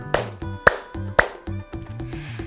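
Three sharp, evenly spaced hand claps from children in a preschool church class activity, heard close and loud over a soft background of music tones.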